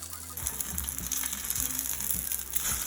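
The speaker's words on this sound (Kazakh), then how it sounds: "Ендігіде капустамызды табаға салып, екі жағынан қызарғанша қуырып шығамыз." Cabbage pancakes frying in a pan, a steady crackling sizzle with small pops and a few soft scraping taps, close and fairly quiet with no talking.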